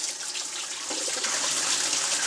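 Running water splashes steadily and close by as it rinses a coyote hide, a continuous bright hiss and patter with no talking.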